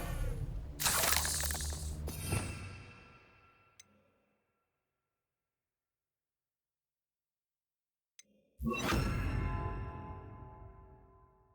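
A Protego shield spell in the Hogwarts Legacy video game rings out as two loud, glassy shattering bursts with metallic shimmer, each lasting a couple of seconds and fading away, separated by several seconds of near silence broken only by faint ticks.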